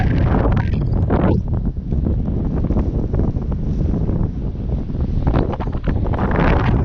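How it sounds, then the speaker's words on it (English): Strong wind on a beach buffets the microphone with continuous loud, roaring rumble and gusty swells throughout, close and overwhelming, with no clear speech. "I know it's probably very blustery"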